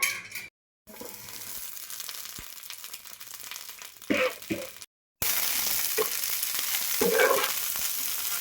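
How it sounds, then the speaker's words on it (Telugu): Green chillies frying in oil for mint chutney, a hissing sizzle interrupted by two brief silent gaps, with a few clinks and stirring sounds, louder after the second break. "ఫస్ట్ కొంచెం ఆయిల్ వేసుకొని పచ్చిమిరపకాయలు వేయించుకుందాం"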